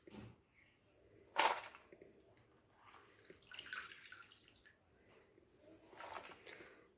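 Soaked fish heads being washed by hand in water for a cabbage dish: quiet splashes and a sharper slosh, then soft intermittent water swishing in a quiet kitchen.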